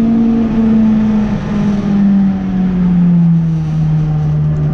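A race car engine at a Castle Combe track day drones loudly and steadily from inside the car, its pitch slowly falling as the revs ease off.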